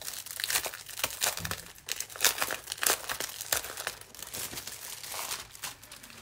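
A pack of white paper and kraft paper is handled, giving continuous crinkling, rustling and crackling of paper sheets at close range, with no talking.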